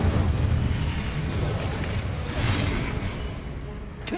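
The Incendio fire spell in Hogwarts Legacy goes off as a loud, sustained roaring burst with a whooshing swell in the middle, dense and rumbling, tapering slightly at the end.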